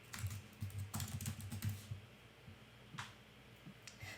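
Rapid keyboard typing on a computer keyboard while entering HTML code in a web editor, a dense run of close clicks in bursts with short pauses and a few isolated keystrokes near the end.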